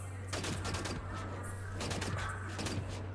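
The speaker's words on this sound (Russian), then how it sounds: "И в меня уже стреляют." Enemy gunfire in Wolfenstein: The New Order, sharp bursts of shots in several clusters over a constant low hum, moderately loud and close.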